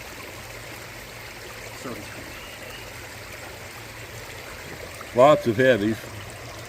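Water runs steadily through an RPE sluice box while gold prospecting in Indiana, a constant close trickling rush with garnet-rich sands, and someone speaks briefly over it near the end.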